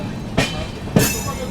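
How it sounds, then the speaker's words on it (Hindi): A train rumbles steadily nearby as the Shramjeevi Express arrives at Bareilly Junction after rain, with two sharp rushing bursts of clatter about half a second apart over a low rolling drone. "ट्रेन अपनी पहुंच चुकी है बरेली जंक्शन।"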